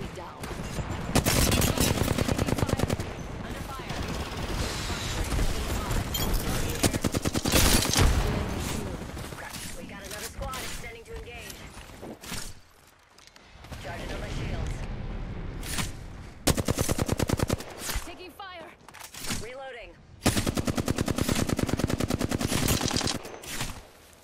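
Automatic gunfire in a video game shooter, loud sustained bursts and volleys with brief lulls, close and dense, mixed with game voice callouts.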